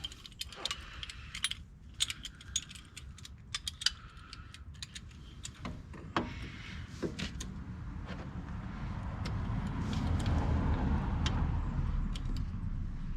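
A brake caliper piston compressor tool is tightened against the pad of a Jeep XJ front caliper, giving close, sparse metallic clicks and ratchet-like ticks, with a rising mechanical rumble toward the end.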